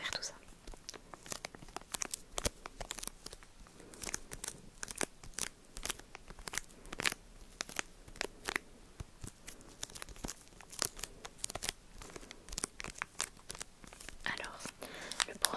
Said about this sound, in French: On a donc nos 4 boosters. On va commencer à ouvrir tout ça.